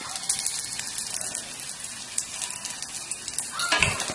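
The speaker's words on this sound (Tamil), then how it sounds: "இந்த காரத்தை கம்மி பண்ணுறதுக்காக நல்ல நெய்யில் நல்லா சாட்டே பண்ணிக்கிறோம்" Green chillies sauté in ghee, a steady wet frying hiss that runs throughout at moderate level, with a slightly louder sizzling burst near the end as they are stirred.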